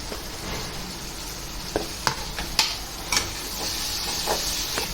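Mutton trotters cooking with fresh tamarind leaves in a pan give off a steady hiss and sizzle, with a few sharp clicks and stirring knocks scattered through.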